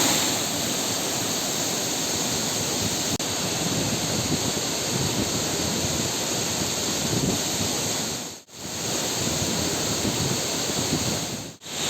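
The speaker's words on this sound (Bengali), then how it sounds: "ফলসের জলটা এখান দিয়ে বেরিয়ে যাচ্ছে আর এই হচ্ছে ফলস" Water of Changey waterfall in Kolakham pouring down in a steady, loud, broadband roar that runs without a break, close by, with no voices.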